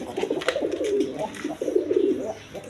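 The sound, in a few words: pigeons cooing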